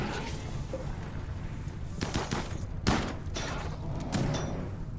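Gunfire in the video game RimWorld plays as scattered bursts of shots and thuds, one sharper crack standing out amid a muffled, busy battle background.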